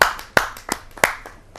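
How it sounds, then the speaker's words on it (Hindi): Sparse clapping at a Hindi kavi sammelan poetry gathering welcoming a poet, a handful of sharp, distinct claps at irregular intervals from only a few people, close and clear. "आप सब जोरदार तालियों से उनका स्वागत करें।"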